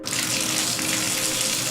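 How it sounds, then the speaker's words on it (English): A faucet turned fully open pours a steady, unbroken stream of water, a close, even hiss and splash with no drips or pauses, heard alone. "I realized it was a faucet. The faucet was on completely. No longer a drip, but a steady stream."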